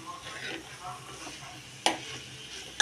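Mixed vegetable bhaji being stir-fried with chilli powder and spices in a pan over low heat, giving a soft scraping stir and faint sizzle, with one sharp utensil clack near the end.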